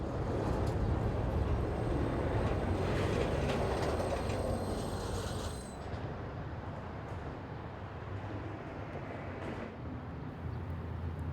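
A long CSX freight train loaded with shipping containers rumbles steadily past on the Cumberland Subdivision in Maryland, its broad rolling roar and wheel clatter holding for several seconds before easing slightly as the cars keep passing.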